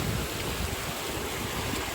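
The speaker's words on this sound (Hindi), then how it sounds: "तो ये हमारा छोटा झरना है।" A small waterfall on a path to a bigger one makes a steady, dense rushing of falling water, loud and close, with no voices over it.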